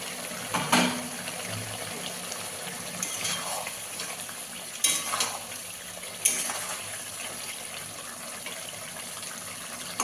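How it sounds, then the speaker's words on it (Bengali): Fish and papaya curry with potato simmers in a covered pot, giving a steady bubbling hiss broken by a few sharp clinks of the lid or utensils, with no one talking. "এবার ঢাকা দিয়ে ফুটিয়ে নেব"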